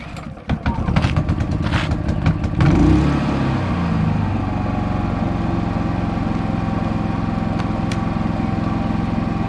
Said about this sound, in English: we're standing right beside a running generator